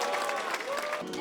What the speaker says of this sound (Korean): 아무것도 없던 천에서 꽃을 만들어내자 관객들의 환호가 쏟아집니다